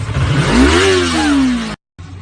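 A vehicle engine revs hard as the driver floors the gas, its loud, close roar climbing in pitch, then holding and easing slightly before cutting off abruptly. A short quieter stretch follows.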